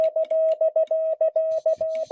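A steady Morse code tone signal keys out a rapid sequence of clean beeping dots and dashes at a single pitch, fairly close, with faint background noise toward the end.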